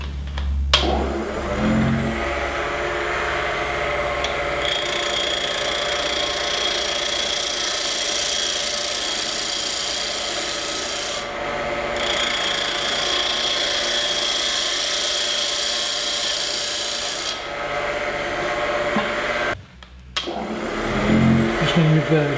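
A wood lathe spins a bog oak pepper mill blank while a skew chisel cleans up the surface, producing a loud, steady whirring hum with brief dips and shifts as the tool touches and lifts off the wood.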